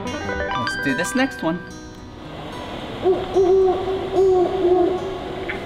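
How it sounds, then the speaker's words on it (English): Great horned owl hoots played from a museum sound button, a series of low, rhythmic hoots repeating through the second half after a voice speaks at the start. "Yep, the great horned owl."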